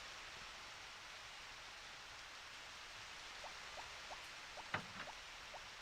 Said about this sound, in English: Rainy days are so somber.